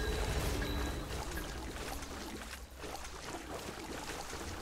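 Steady trickling and dripping water in the video game Remnant: From the Ashes, a continuous wet pour with a low rumble underneath, fairly loud and without talk.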